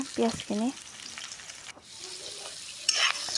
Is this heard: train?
no